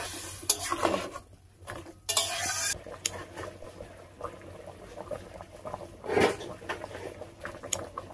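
Fish curry with turmeric stirred in a pan over a village cooking fire: close, repeated scraping and knocking strokes of a spoon against the pan over a faint sizzle, with a few louder clinks.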